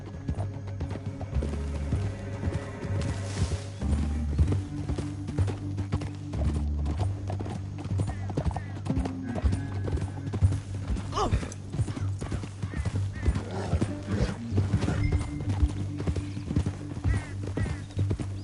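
Steady, rhythmic clip-clop of horse hooves at a gallop in Red Dead, with a low musical drone and occasional creaking underneath.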